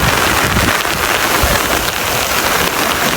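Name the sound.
heavy rain from cloudburst flooding village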